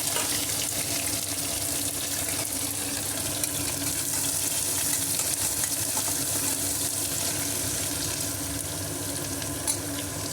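Onion and curry leaves crackle and sizzle steadily in hot oil for an egg pulusu, a dense, loud frying hiss that fills the whole stretch with no talking.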